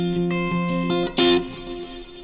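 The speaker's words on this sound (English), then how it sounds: "If I add my big reverb on it, it does sound really great in ambience." Electric guitar run through reverb and delay effects, sustained chordal notes with echoing repeats and a brighter strummed swell near the middle, played alone with a lingering ambient tail.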